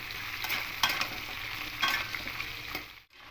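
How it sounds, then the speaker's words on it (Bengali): A utensil scrapes and stirs vegetables for Malabar spinach chhechra in a pan at a steady pace while they sizzle softly underneath, close and quiet, with no talking. "মিশিয়ে নিয়ে একটু হালকা ভাজা ভাজা করে নেব"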